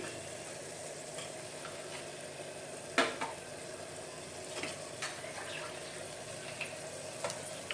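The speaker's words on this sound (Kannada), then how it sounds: "ಇದು ಹಸಿ ವಾಸನೆ ಹೋಗುವವರೆಗೂ ಸ್ವಲ್ಪ ಫ್ರೈ ಮಾಡ್ಕೊಳ್ಳೋಣ." Crushed garlic, green chilli and ginger fry in a pan with a soft, steady sizzle. A few sharp clinks and scrapes from stirring come through at close range, and no one talks.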